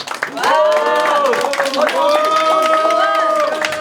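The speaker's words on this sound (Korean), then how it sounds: "여러분 박수로 맞아 주십시오." Audience applause at a political party event as a boxing champion is welcomed, dense clapping from a crowd under a loud announcer's voice and background music.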